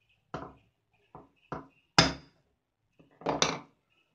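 A center punch is tapped into aluminum sheet to make a starter indentation for drilling, giving a series of crisp, close hammer-like knocks at uneven intervals, a single loud strike midway, and a quick cluster of taps near the end.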